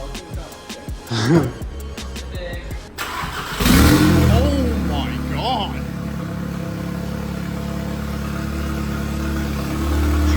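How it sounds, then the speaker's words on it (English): A 2015 Audi A3 four-cylinder turbo engine with a catless open downpipe cranks and fires up about three and a half seconds in, settling into a loud, steady rumbling idle after talk and a brief exclamation over the start. "we have to do the mandatory startup with the open downpipe"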